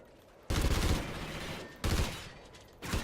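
Bursts of Ripper weapon fire in the Call of Duty video game, three rapid automatic volleys of loud gunfire separated by short pauses, with no talking.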